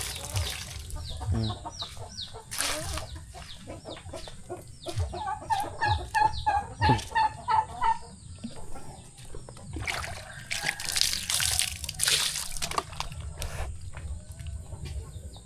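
Native free-ranging chickens and small chicks cluck and peep in a backyard garden, with repeated soft clucks and chirps close by, along with faint rustling and background ambience.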